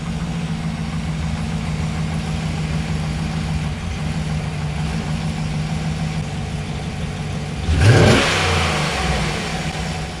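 Chevrolet Tahoe fitted with 15mm wheel spacers driving, its steady engine and road rumble continuous throughout, with a brief louder surge of revving near the end.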